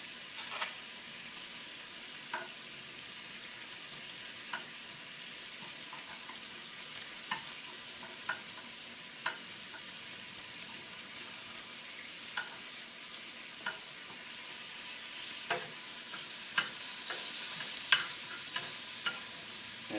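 Scallops searing in butter in a pan, a steady faint sizzle with small pops and crackles scattered through it, quiet and continuous with no talking.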